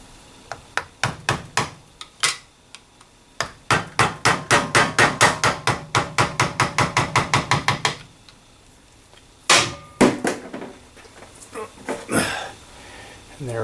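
Sharp metallic tapping as a screwdriver is driven against a seal on a Torqueflite 727 transmission valve body, first in spaced knocks, then a quick rapid series of strikes, followed by a few louder scraping clanks.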